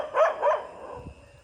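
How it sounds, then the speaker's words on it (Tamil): A dog barks twice in quick succession on a road, two sharp, fairly close barks, followed by quieter street background noise. "என்னது இது நாய் கத்தி கொண்டிருக்கு ரோட்டில்"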